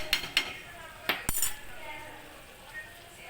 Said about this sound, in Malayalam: ഒരു സെക്കൻഡ് ഒന്ന് മൂടി വെക്കണം.